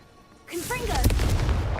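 The Confringo blast spell goes off in Hogwarts Legacy as a sudden loud boom with whooshing magical effects, rumbling on and holding strong after the initial hit.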